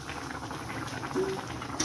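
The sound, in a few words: goat meat curry simmering in a pot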